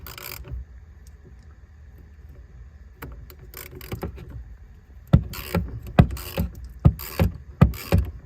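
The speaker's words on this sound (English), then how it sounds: "so let's go ahead and just attach that to our ratchet. Let's go ahead and disconnect it." Ratchet with a 10 mm socket loosening the 12V battery terminal on a Lexus HS250h, a quiet stretch followed by a run of sharp, close clicking strokes in an irregular rhythm, no voices.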